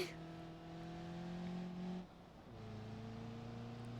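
Engine drone of an Ibitsu Hopper jeep in the driving game BeamNG.drive, a steady hum whose pitch drops abruptly midway as the gear or revs change, then holds at a lower, even note.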